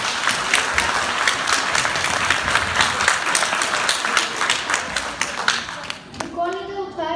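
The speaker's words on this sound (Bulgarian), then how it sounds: "Аплодисменти за тях," An audience at a school New Year show in Varna claps steadily for several seconds, a dense, lively round of applause that fades out as a voice begins speaking near the end.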